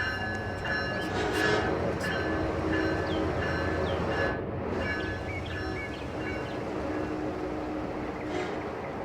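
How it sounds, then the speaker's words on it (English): A train rolls past steadily and close, a dense rumbling roar with metallic squeals and clatter sustained throughout, no talking over it. "There's another train."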